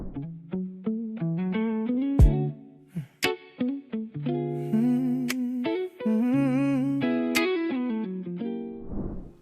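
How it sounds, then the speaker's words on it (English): A solo electric guitar stem track, strummed chords and picked notes with a bright, slightly effected tone, ringing steadily with short pauses between phrases. "Let's listen closely to this guitar stem."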